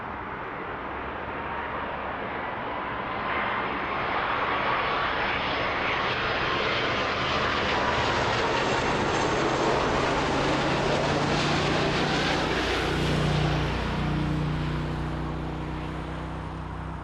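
Airliner taking off on runway 05 at Toronto Pearson, a loud sustained jet engine roar that builds and holds, with the pitch rising as the aircraft accelerates and climbs.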